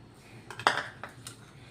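Sabudana mixture for chaat being mixed with a spoon in a bowl, a few soft scrapes and one bright metallic clink of spoon against the dish, close and brief.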